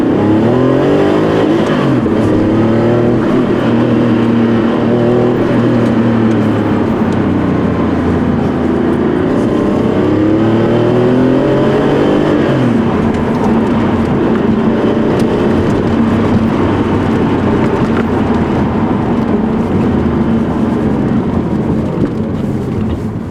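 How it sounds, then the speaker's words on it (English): A 1990 Porsche 964 911 with a lightweight flywheel pulls hard through repeated rising sweeps as it climbs through the gears, loud and close throughout, with a sharp drop between pulls and a steady roar near the end. "You can hear what this engine's all about."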